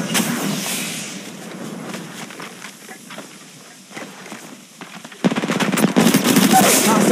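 Video-game gunfire in Apex Legends Mobile, dense rapid bursts of automatic weapon fire that ease off midway, then return louder and heavier near the end, with brief speech mixed in.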